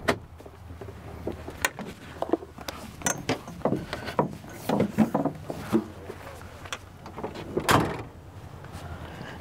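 Driver climbing down from a tractor cab during a vehicle check, with sharp door clunks, latch clicks and scattered mechanical knocks, close and intermittent, with quiet speech in between.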